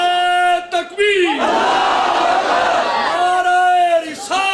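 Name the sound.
crowd shouting response to the slogan Nara-e-Takbeer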